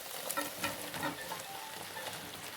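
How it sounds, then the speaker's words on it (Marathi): Fried soybean chunks with ginger-garlic paste sizzle and crackle in a pan as they are stirred, a close, continuous frying hiss with scraping stirs and small pops. "आता ती चांगल्या प्रकारे परतून घ्यायची आहे. फ्राय केलेली सोयाबीन आपण ॲड केलेली आहे."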